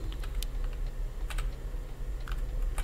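Rapid computer keyboard keystrokes, a scattered run of sharp clicks at close range over a steady low rumble, from someone steering a truck in Euro Truck Simulator 2 with keyboard and mouse.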